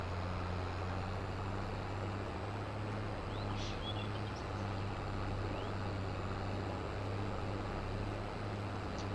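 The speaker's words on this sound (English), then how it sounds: "this is the tractor that is going to be our startup tractor" A constant low tractor engine drone in Farming Simulator 22, idling or running steadily, unchanging throughout with no voices.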